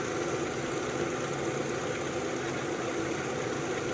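A VW Passat engine idles with one fuel injector connector removed, a steady close mechanical hum and vibration with no talking.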